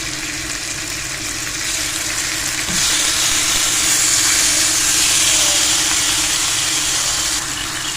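Marinated chicken tikka hits a lightly greased pan and sizzles loudly, a bright continuous hiss that swells midway and holds steady, with no talk over it.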